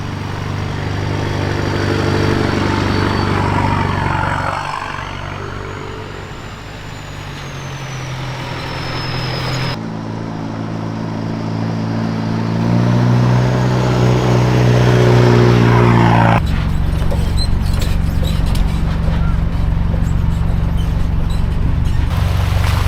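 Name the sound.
4WD vehicle driving off-road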